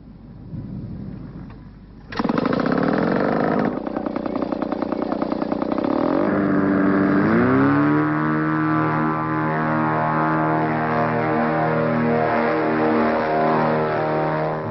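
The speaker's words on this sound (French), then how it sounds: "deux moteurs de tondeuse à gazon, deux hélices, 400 cm3." Motorized parachute driven by two 400 cc lawn mower engines with two propellers, roaring loudly and continuously with a buzzing, revving drone that rises in pitch as it throttles up, heard alone.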